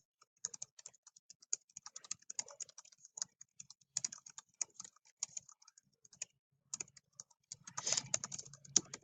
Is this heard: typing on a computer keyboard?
yes